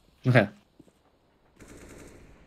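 A burst of gunfire from a CS:GO match, one loud, sharp crack followed by a faint click and then a lower, steady rush of game ambience.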